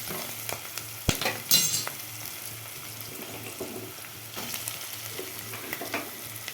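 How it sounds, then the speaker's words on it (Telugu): Pieces of bitter gourd fry in a pan with onion, turmeric and ginger, giving a soft, steady sizzle. A few clatters of stirring and a brief sharp knock come through near the start, and no voices are heard. "అల్లం, పసుపు వేసి కాకరకాయ ముక్కలు వేస్తాను."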